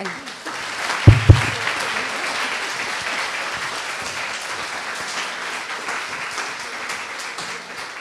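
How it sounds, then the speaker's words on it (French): Dense, sustained applause from an audience at a talk on everyday sexism, a steady wash of many hands clapping, with a couple of loud thumps near the start. "vous pouvez applaudir"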